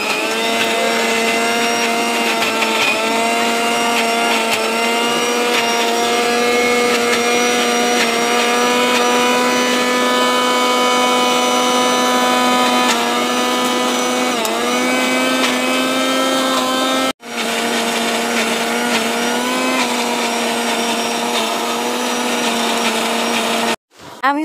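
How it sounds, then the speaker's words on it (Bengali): An electric blender purees kharkol bharta in a loud, steady motor whine that runs continuously, halts briefly, then starts again before cutting off. "আর এখন হচ্ছে আমি ব্লেন্ড করে নিব।"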